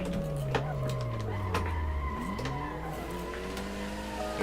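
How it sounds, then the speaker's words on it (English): Car sliding through turns in Assetto Corsa during a drifty grip run, the engine droning steadily with pitch sweeping up and down and tyre squeal layered over a constant loud roar. "I am sliding the car to ease it around the turns"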